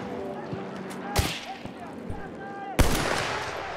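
Enemy machine gun fire in Battlefield 1 on the Lupkow Pass map, with scattered distant shots and two sharp loud bursts standing out over a busy battlefield din.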